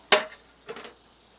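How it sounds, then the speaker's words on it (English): Hot tamale pie filling poured over cornbread gives a sharp, brief sizzle, followed by a softer second hiss, close and alone. "Hear that sizzle? That's hot."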